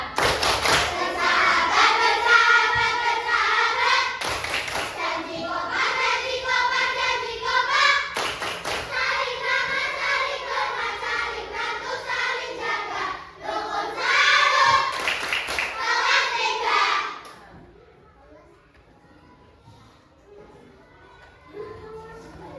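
Grade 3 classroom clapping game: a class of children and a teacher clap a patterned rhythm while chanting together, steady bursts of claps under loud group voices for about seventeen seconds, then fading to quiet murmurs.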